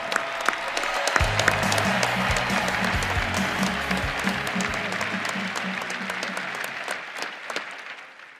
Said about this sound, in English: Let's give our newest alumni a round of applause.